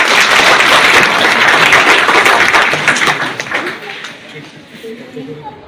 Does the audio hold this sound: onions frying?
no